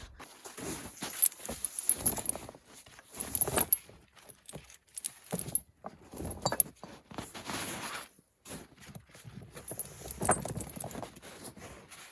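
Metal tire chains for a 1952 Dodge M37 clink and jangle as they are handled and hooked up in wet, dense snow, with irregular close rattles and pauses between bursts.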